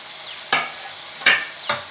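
Green chillies, tomato pieces and curry leaves dropped into hot oil in a pan for bottle gourd chutney: a faint background hiss with three sharp, brief sizzling bursts or stirring scrapes, close and clear.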